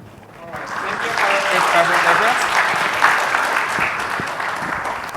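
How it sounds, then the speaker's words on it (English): Sustained applause from an audience, steady clapping filling the room for several seconds, with a murmur of voices underneath. "thank you for a great presentations, and give applause to Mr. Aulia Rahman."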